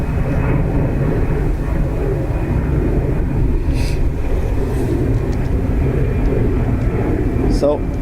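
Aer Lingus airliner arriving at Dublin Airport from Vienna, a continuous low engine rumble and roar holding steady throughout, with faint radio chatter and brief tones on top.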